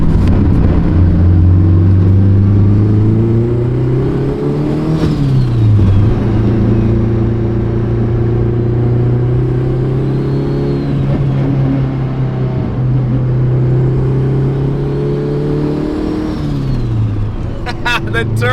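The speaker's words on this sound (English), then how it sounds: "The turbo noise." A K-swapped, turbocharged Honda EG hatchback drives by, its engine droning loud and close with steady rising and falling pitch and a faint turbo whine above, continuous throughout, ending in a brief sharp flutter.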